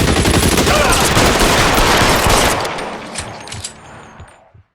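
Dense, rapid gunfire in L.A. Noire, a loud burst of overlapping shots that thins out into a few scattered reports and fades near the end.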